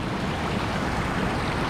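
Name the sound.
creek water flowing near Hermit Rapids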